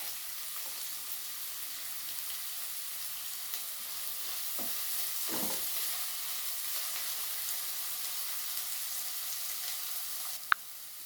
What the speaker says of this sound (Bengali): বেশ ভালো করে আমি ভেজে নেব প্রথমে পেঁয়াজগুলো